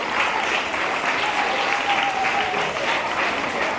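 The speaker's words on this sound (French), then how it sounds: "On va applaudir également tous les directeurs d'écoles primaires privées catholiques d'Abidjan" Steady, dense applause from a large audience honoring primary school directors at a mental-arithmetic contest in Abidjan, sustained and fairly loud throughout with a faint voice tone drifting through the middle.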